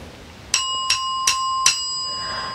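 A bell sounding the note do, struck four times in an even rhythm, each strike a clear bright ping that rings on and blends into a lingering sustained tone.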